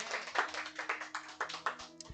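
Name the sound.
congregation applause for God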